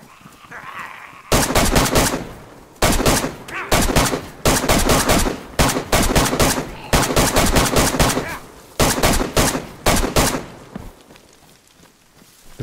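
Gunfire in the video game DayZ rips out in repeated loud bursts of rapid automatic shots, separated by short pauses, close and dominant.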